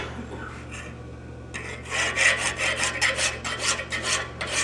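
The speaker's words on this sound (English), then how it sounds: "When you're filing, you know, it's going to cut when you go away from you." A hand file rasps across metal at a blacksmithing demonstration. After a quieter start, a steady series of about eight scraping strokes follows in an even back-and-forth rhythm.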